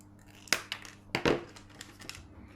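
Scissors snip decorative berries off a stem for a Christmas paper craft: two or three sharp, close cuts with light crinkling of material in between, fairly quiet and with no talk.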